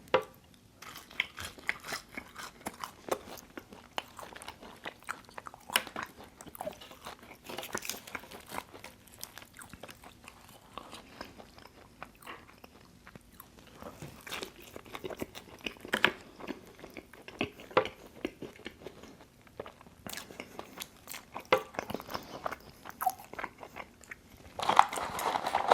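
Close crunchy biting and chewing of McDonald's fries, with repeated crisp crackles and soft mouth sounds spread over a long stretch, no talking.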